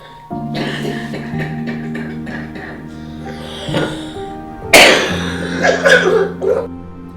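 Someone coughs repeatedly in rough, throaty bursts over a steady low hum, with one loud harsh cough partway through followed by several more.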